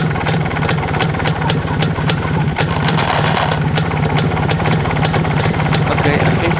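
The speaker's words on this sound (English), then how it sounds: "Once I activate the clutch, at the end of the activation, the rattle is still in it." MZ motorcycle engine idling steadily up close with a persistent mechanical rattle and regular ticking beats as the clutch is worked, loud and continuous throughout.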